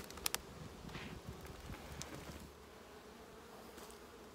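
Wild-stock honeybees hum around a queenright poly hive box, a soft steady buzzing with occasional closer passes, faint and mixed with light wind and rustle.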